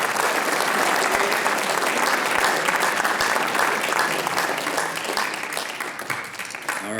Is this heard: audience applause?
yes